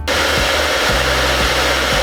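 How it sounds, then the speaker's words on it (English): A blow dryer melting crayons for crayon art, a loud steady airy whoosh with a low motor hum that shifts slightly as it is moved, with no talking. "Okay, so I got my blow dryer."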